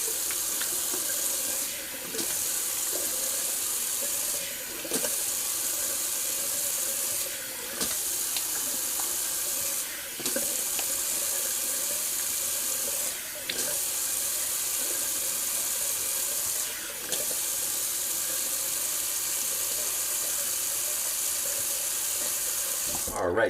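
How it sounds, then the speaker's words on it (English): Cold tap water runs steadily into a bathroom sink for a rinse after a wet shave, a continuous loud hiss and splash interrupted by several brief dips as hands cup and splash water. "I'm just going to do a quick little cold water rinse after I just wipe off this excess lather"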